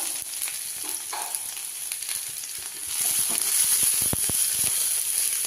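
Ginger and chopped curry leaves stirred in a hot pan give a soft hiss and frying crackle, growing louder partway through as scattered clicks and scrapes of the spoon come in, with no voices.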